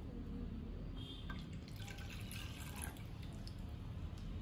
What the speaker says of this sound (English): Then we add water, that is 100 ml.